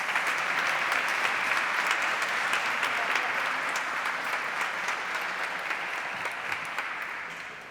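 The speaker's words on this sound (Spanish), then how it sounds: "fuerte el aplauso para Ana Belén Noriega" A seated audience gives sustained, even applause to welcome a speaker at a talk on women's leadership and sustainability, a dense wash of clapping that fades slightly toward the end.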